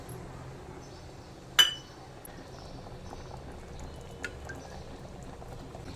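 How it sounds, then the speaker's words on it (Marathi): An egg curry gravy simmers at a low, steady bubble in a pot, with one sharp clink of an utensil early on and a faint tap later; no talking. "छान उकळी आली आहे आता आपण अंडी टाकून घेऊया"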